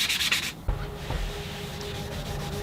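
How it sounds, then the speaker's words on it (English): Hand sanding with 320 grit sandpaper on a painted wooden guitar body: quick, close scratchy rubbing strokes at first, then a quieter pause with faint room noise. "using some 320 grit sandpaper, I'm going to lightly sand the surface back some"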